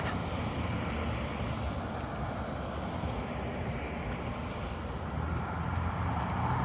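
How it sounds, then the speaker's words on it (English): Wind buffets a microphone outdoors on the Macdonald Bridge, a constant low roaring rush with a steady wash of road traffic beneath it and no clear breaks. "It's a little windy out today"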